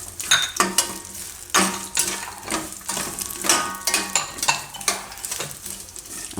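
Dry fruit poha ingredients are stirred and mixed in a pan with a spoon, producing repeated close scraping and clinking strokes in an uneven rhythm over a light sizzle.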